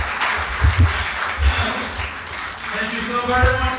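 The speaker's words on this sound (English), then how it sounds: "Can we give him another round of applause?" An audience claps steadily through a leadership training event in Nigeria, the dense patter running the whole time beneath a speaker's voice as he talks over it.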